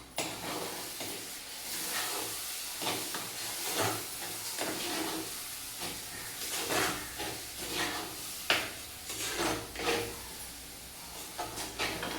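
Chopped vegetables sauté in a hot pan while a Tamil home cook makes moong dal kurma, a soft steady hiss with scattered scraping stirs and clinks throughout, close and moderately quiet, no talking.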